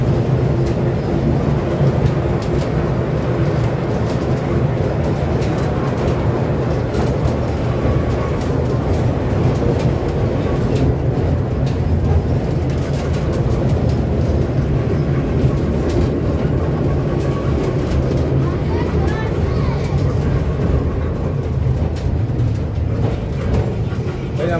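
Passenger train bound for Dhaka, heard from inside a carriage: a steady, loud rumble of wheels and car noise runs throughout with no break.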